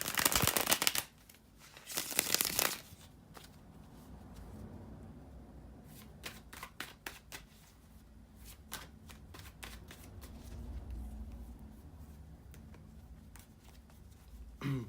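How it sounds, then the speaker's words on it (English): Tarot cards being shuffled by hand, starting with a few loud riffling bursts, then continuing as softer, steady shuffling with scattered sharp slaps and taps, close and alone. "bear with me a second, guys, to shuffle the tarot cards"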